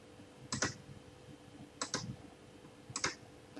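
Three separate computer keyboard key-press clicks, spaced about a second apart, quiet and close in a calm room for a Ctrl+C copy.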